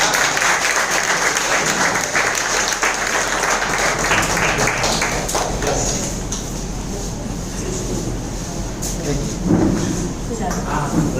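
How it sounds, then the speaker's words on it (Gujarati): Sustained, loud applause from an audience at a business meeting in a hotel hall, broad clapping filling the whole stretch with chatter mixed in. "તાળીઓ પાડો બધા ઉભા થાય"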